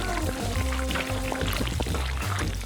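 Topping poured over an ice cream cone, a continuous wet liquid stream running steadily for a few seconds, close and fairly loud with no talk.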